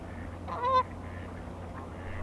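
A goose gives a single faint honk from a flock of ducks, geese and trumpeter swans on partly frozen water, heard at a distance over low ambient hum.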